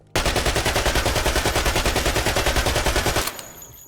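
Sustained automatic rifle fire from an Escape From Tarkov recoil test, a rapid even burst of loud close shots lasting about three seconds before cutting off into a brief ringing tail.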